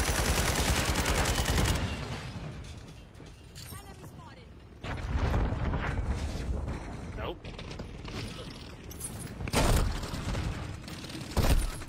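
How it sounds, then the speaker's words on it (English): Video game gunfire from a shooter crackles in several bursts, a dense volley at the start, then sharp scattered shots with mechanical clicks and creaks, while a player talks over it. "Lighten them up with that damn fucking gun."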